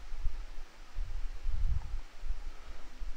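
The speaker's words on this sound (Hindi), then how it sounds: "हवा चल रही है, हवा।" Wind blows in a horror video game as a low, rumbling gust that swells and fades unevenly with soft rustling noise and no speech.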